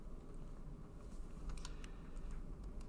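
Typing on a MacBook keyboard while entering a terminal command: light, scattered key clicks, fairly faint and close, over a steady low background hum, with no voices.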